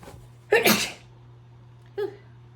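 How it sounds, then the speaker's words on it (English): A single loud sneeze bursts out, followed about a second later by a shorter, quieter sniff-like burst, over a faint steady hum. "I gotta sneeze again."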